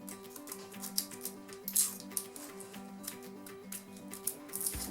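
Papery outer skin of an onion peeled back with a thumbnail, giving quiet dry crackles and snips over a steady background of soft musical tones.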